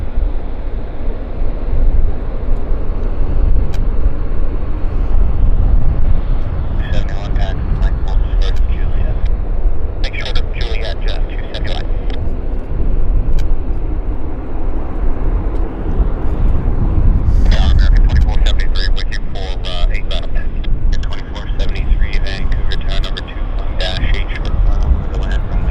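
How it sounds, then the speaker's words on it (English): A Jazz Q400 turboprop from Prince George comes in to land at Vancouver airport, a steady distant engine drone under ongoing commentary and wind, with brief higher-pitched whines. "Another aircraft coming in as well. It's another Q400,"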